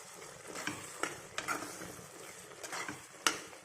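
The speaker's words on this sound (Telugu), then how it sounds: "ఇప్పుడు కొద్దిగా బటర్ వేసుకొని కలుపుకోవాలి, అదే కరిగిపోతుందండి." Butter stirred into a kabuli chana (chickpea) curry in a pan: a soft, continuous sizzle beneath irregular scraping of a spoon and occasional light clinks on the pan, close and fairly quiet.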